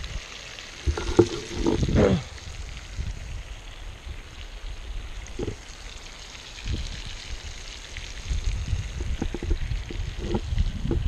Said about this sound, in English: Two beautiful chuck-eye steaks, cooked in a cast iron skillet over the fire.